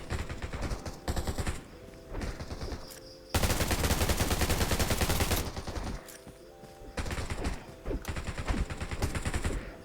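Bursts of gunfire from the zombie survival game Undawn, shotgun blasts mixed with rapid machine gun fire, loud and dense with a sustained volley in the middle and shorter clusters of shots before and after.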